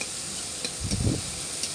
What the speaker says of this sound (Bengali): কড়াই তেল দিয়ে আমি ভালো করে ভেজে নিচ্ছি